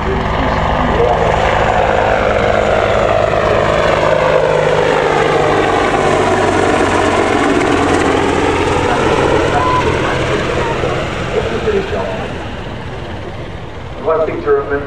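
An Army Air Corps Apache attack helicopter flies a display at the 2012 Farnborough International Airshow, its loud, throbbing rotor roar sweeping past with a rising and falling pitch, while a commentator talks over the public address.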